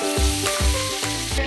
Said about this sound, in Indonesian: minyaknya sudah panas. Selanjutnya, goreng ikan kotesnya.